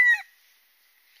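A young jungle fowl caught in a trap gives a single short, loud clucking call at the start, then fades to near silence.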